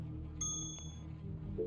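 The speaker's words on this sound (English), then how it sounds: "Now, ring the bell and immediately duck." A bell rung at a bar counter in the Hitman: Contracts video game, a single bright ding near the start with a short ringing tail over steady low game ambience.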